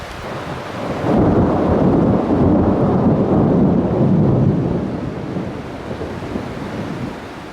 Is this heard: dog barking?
no